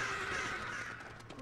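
A crow caws in the Lego Lord of the Rings video game, one drawn-out, harsh, nasal call that fades over a second and a half, clear and close with a steady low hum underneath.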